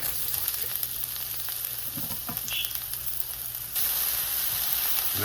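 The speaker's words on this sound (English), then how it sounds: "Fry the onions." Onions frying in a little oil in a pan for fried rice, a continuous close sizzle with brief stirring clatter midway, growing brighter and louder toward the end.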